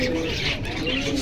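Pigeons coo softly at a pigeon market in Jinjira bazaar, with low, rolling calls and faint chirps over a murmuring market background.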